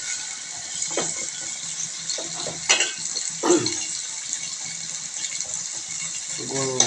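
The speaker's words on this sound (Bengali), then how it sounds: "এখন পেঁয়াজ আর তেল দিয়ে ভেজে নিচ্ছে সুন্দর করে নাড়াচাড়া করে" Onions frying in oil in a pan, stirred while cooking for a beef liver and potato curry, give a steady hiss of sizzling. A voice talks over it, with occasional utensil clatter.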